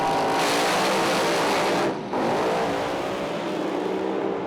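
Altered drag racing cars at a Pro Alcohol meet revving hard on and off the throttle, a loud, continuous engine roar that cuts out briefly mid-way before surging back.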